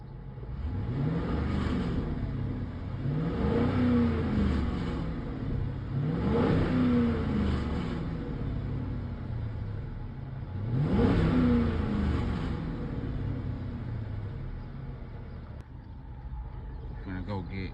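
A Chrysler 300C with a 5.7 HEMI V8 and straight-pipe exhaust revs four times in a row, each rise and fall of engine pitch clear over a steady idle, close and moderately loud.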